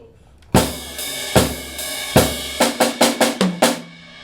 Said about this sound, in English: we have a fill to do, and it's going to include the first tom.